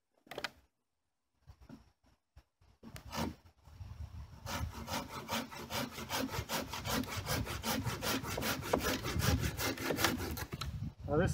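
A Silky Big Boy 2000 pull saw with large 6.5 TPI teeth cuts through hard ash wood, giving a steady run of loud, rhythmic rasping strokes after a few brief starts.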